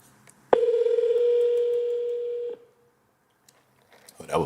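A single long electronic telephone tone sounds for about two seconds while a call is being placed, clear and close, with quiet room noise around it and a voice starting just afterward.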